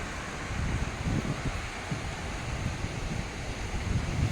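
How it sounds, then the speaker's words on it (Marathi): A stream runs in front of terraced farm plots during the rainy season, giving a steady, close, broadband rush of flowing water with a faint breezy hiss and no voices. "आवाज किती येते बघा पाण्याचा."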